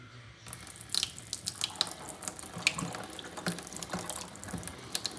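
Water runs from a household tap at low pressure during a severe winter storm in Louisiana, a thin, steady hiss with small splashing spatters, close by and alone.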